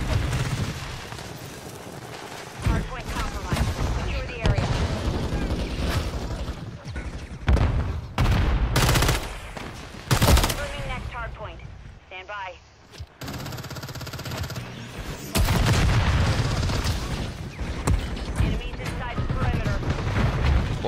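Rapid bursts of gunfire in the video game Modern Warfare 3 crackle and boom in uneven volleys, loud and close, while a voice talks over the shooting at intervals.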